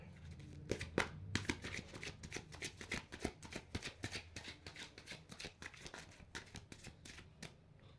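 Cards being shuffled and drawn for a candle wax tarot-style reading, a dense run of quick papery riffles and flicks at close range, continuing steadily with no talking.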